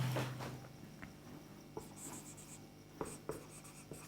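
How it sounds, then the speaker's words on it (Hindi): Handwriting during a physics lesson, heard as faint, close scratching and scraping strokes with a few light taps, quiet and intermittent, with no speech. "तो लिखते हैं"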